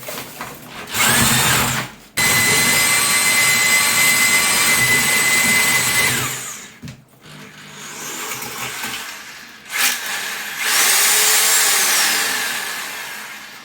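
A power drill whirs loudly and steadily while mixing patching compound with water, pausing briefly twice before starting up again, with no talking.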